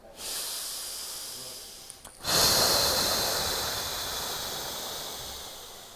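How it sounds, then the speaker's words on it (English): Breathing exercise from a Tai Chi neigong practice: a soft nasal exhale as air is squeezed from the lungs, then a stronger, louder breath of hissing air that tapers off slowly, close and alone with no talk. "squeezing the air out of the lungs, using the body's mechanics in the torso to do so"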